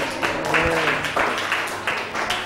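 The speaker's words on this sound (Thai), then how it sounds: "เอาปรบมือให้ตัวเองหน่อย" Children in a Thai classroom clapping for themselves after singing a song about the sufficiency economy, a ragged burst of several close hand claps repeating in uneven waves.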